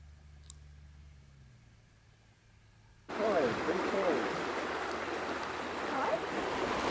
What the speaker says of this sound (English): We have to cross this little creek.